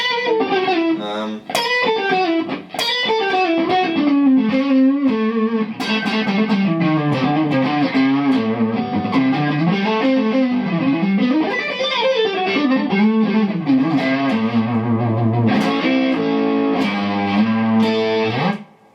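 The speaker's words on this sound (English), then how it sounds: "the sound you're hearing today is my new amp, the Fender Supersonic" Electric guitar plays fast pentatonic licks with slides and small glitchy bends through a Fender Supersonic amp, with a driven, effects-heavy tone that runs loud and continuous with no talking.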